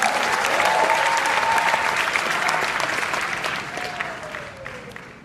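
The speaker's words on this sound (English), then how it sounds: "Could we give a big hand to Coach Randy Casguero?" An indoor audience applauds steadily as a speaker takes the stage, a dense wash of clapping that fades slightly toward the end, with a few faint cheers mixed in.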